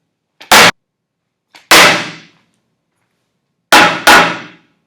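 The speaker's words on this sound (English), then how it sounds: "This is a hammer." A hammer strikes a hard table four times in uneven pairs, each sharp, loud crack followed by a short ringing decay, with no voices.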